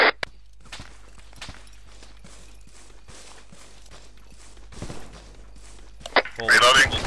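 Gunfire resumes in a military video game, with scattered single shots and short clusters at a distance, footsteps and mechanical clatter between them, and a louder close burst near the end.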